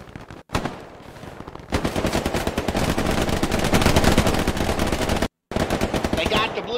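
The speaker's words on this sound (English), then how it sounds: "Oh shit, they're shooting at me." Rapid machine-gun fire in the World War II shooter Hell Let Loose, a dense continuous burst of shots aimed at the player, loud and close, with two brief cutoffs.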